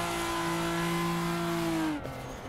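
A drifting car's engine in the Assetto Corsa racing game holds a loud, steady high rev for about two seconds, then drops off abruptly as the throttle lifts.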